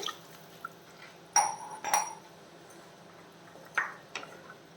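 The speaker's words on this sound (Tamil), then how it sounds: "ஒரு கப்பு தண்ணி சேர்க்குறேன்" A cup of water is poured into a simmering fish curry in a home kitchen, giving a few short splashing bursts with brief quiet gaps between them and no talking.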